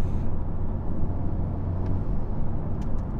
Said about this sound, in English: you can hear some turbo spool and some whoosh push.